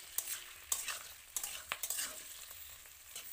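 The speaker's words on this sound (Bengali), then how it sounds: "এবার পেঁয়াজ ও ক্যাপসিকামটাকে একটু ভেজে নেবার পালা।" Onion and capsicum sizzle in a pan for chili chicken, with a soft steady frying hiss broken by several sharp scrapes and clacks of stirring, close and fairly quiet.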